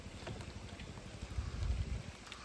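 Rain falling on a river during a fishing trip, a steady low pattering wash with scattered drops, moderately quiet and continuous, with no voices.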